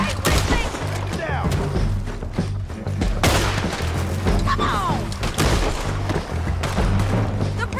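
Repeated loud gunshots crack out in Red Dead Redemption 2, several sharp reports spaced through a dense, busy game soundscape with a steady low hum underneath.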